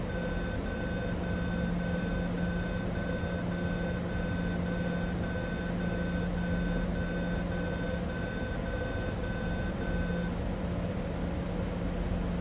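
In a FlightFX Citation X flight simulator, a cockpit alarm beeps in a rapid, evenly spaced series for about ten seconds and then stops, over a constant cabin hum.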